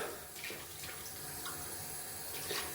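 A tap runs steadily into a sink while shaving soap is rinsed off a puck, a soft close splashing with small bursts as the water hits it.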